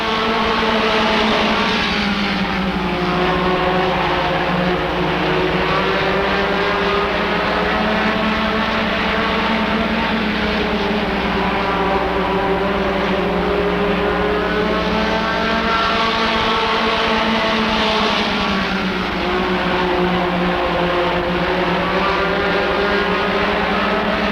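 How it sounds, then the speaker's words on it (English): Race cars roaring around the oval at Rockford Speedway, a loud, continuous engine drone with rising and falling pitch as the pack passes close by. "Out of turn number 4, your leader after one completed lap, Lignell."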